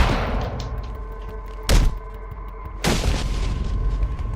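A fire extinguisher pops twice in the video game Batman: Arkham Origins, each a short booming thud with a burst of hiss, heard over steady background game ambience.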